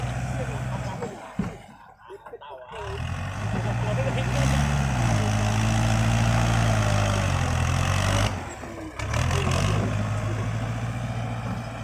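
A farm tractor engine runs loud and close, its drone rising and falling in pitch as it works in a tight spot, with brief gaps and people talking over it.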